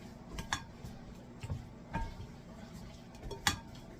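Shrimp and vegetables with olive oil, salt and pepper are tossed on a metal sheet pan. Several soft, irregular clinks and scrapes come from a utensil against the pan, fairly quiet, with no talking.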